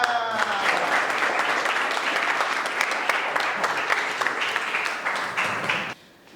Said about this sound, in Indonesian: Bravo, tepuk tangan.